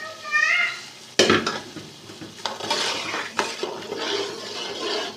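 Fried chickpeas with yakhni stock poured over them, stirred in a pot for chana pulao: a loud splash and clatter of liquid hitting the hot pan, then steady bubbling and sizzling with scraping stirs, fairly close.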